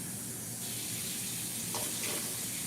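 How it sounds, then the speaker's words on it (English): Tap water runs steadily into a bucket indoors, a continuous hissing splash heard close up with no talking. "Let me put some water in this bucket."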